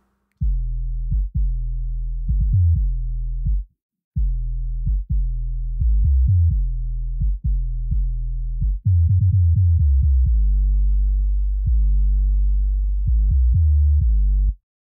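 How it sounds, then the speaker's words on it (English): A song soloed to its bass band plays as deep, sustained low notes in choppy phrases, with a short dropout before a longer, fuller held passage, loud and alone. "So here is the bass band in this song."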